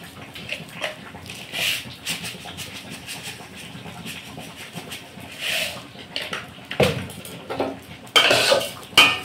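A spoon stirs rice with sugar in a cooking pot for polao, making irregular metallic scrapes and clinks close by, growing louder and more frequent toward the end.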